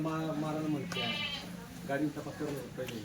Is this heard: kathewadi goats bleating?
yes